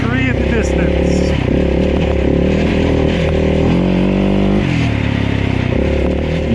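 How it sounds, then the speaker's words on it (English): A KTM 690 dirt bike is ridden during roadbook practice, its loud engine droning and rising in pitch with loose parts rattling faintly underneath while a voice speaks over the noise. "You can hear there's some stuff rattling around."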